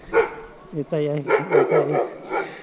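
A German shepherd dog barks and whimpers in a few short, close bursts, mixed in with people talking nearby.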